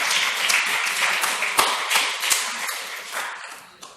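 Applause from the public gallery at a council committee meeting, a dense burst of many hands clapping that holds steady for several seconds, then thins and fades near the end.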